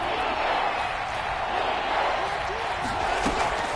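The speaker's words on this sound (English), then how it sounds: "And this crowd urging on their defense." Large American football stadium crowd at an Eagles versus 49ers game roaring steadily for the defense, a dense, sustained wash of cheering and noise with no breaks.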